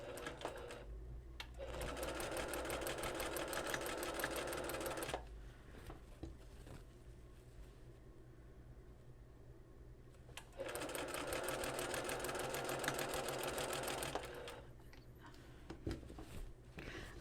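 A sewing machine stitches a dress hem with regular white thread, running in two steady bursts of several seconds each with a quiet pause between them, close and clear, with no talking.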